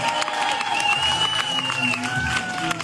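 Audience applause and crowd noise rise in a comedy show venue as a group called Dream Team is invited on stage, a continuous wash of clapping mixed with whistles and a host's voice.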